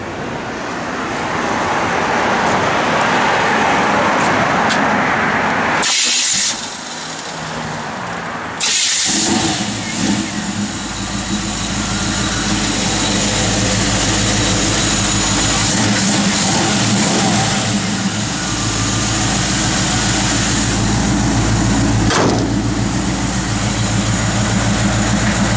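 A 1962 Chevrolet Impala SS cranks and fires up after a brief pause, then settles into a loud, steady idle with a low rumbling exhaust that continues without any talking.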